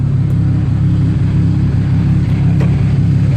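BMW 335xi with an N54 engine and single-turbo setup idles in limp mode, a steady loud low rumble holding evenly throughout with no talking.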